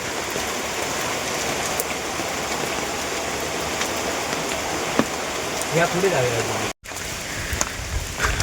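Steady heavy rain pours down in a constant dense hiss, with a brief cut near the end and no voices.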